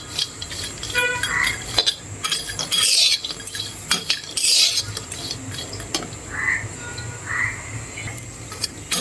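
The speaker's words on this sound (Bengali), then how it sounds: "এবার আমি শুটকিটা কড়াইতে টেলে নিব হালকা।" Loitta dried fish being lightly dry-roasted in a wok, with repeated scraping and rattling strokes of stirring in irregular bursts over a steady background.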